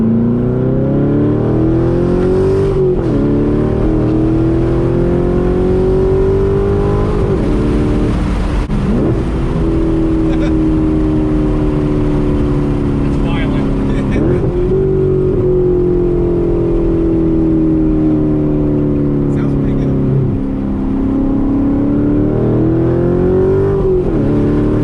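A Corvette C7 Z06 engine revving repeatedly through its exhaust, loud and close, with rising and falling sweeps of a deep roaring tone held steadily across the whole stretch.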